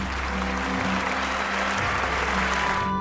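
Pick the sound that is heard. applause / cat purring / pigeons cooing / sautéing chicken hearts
applause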